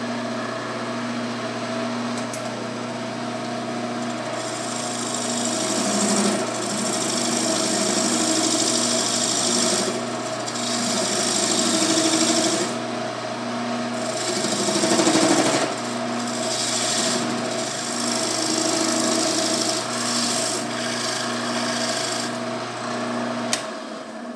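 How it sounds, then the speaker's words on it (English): A wood lathe hums steadily while a tool parts off plywood segments from a segmented potpourri box, giving a continuous scraping, rasping drone with a low motor tone throughout. "we're going to part off these pieces of plywood, and we can take the lid off now"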